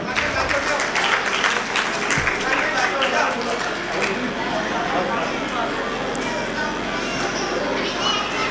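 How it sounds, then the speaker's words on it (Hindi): Loud applause from a crowd at a teachers' gathering in Patur, dense clapping that runs the full length with a few sharp knocks near the start and a voice faintly audible underneath. "एक बार जोर से तालियां बजाइए आप"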